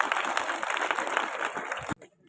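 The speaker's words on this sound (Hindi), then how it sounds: "ताली आप सबके लिए," Crowd at an Independence Day school function applauds steadily, a dense wash of clapping that cuts off abruptly near the end.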